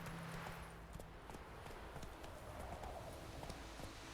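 A horse gallops at a steady rhythmic clip-clop in The Witcher 3, its hooves sounding close over constant noisy background sound.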